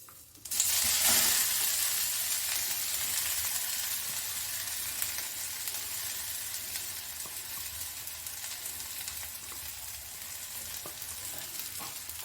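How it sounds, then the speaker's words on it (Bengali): Ground pea paste hitting hot oil in a wok sets off a loud burst of sizzling and frying that settles into a steady crackling hiss, with occasional stirring and no talking. "তার জন্য কড়াইয়ে তেল নেওয়া হয়েছে। এর মধ্যে আমি মটরশুঁটি বাটাটা দিয়ে দেবো।"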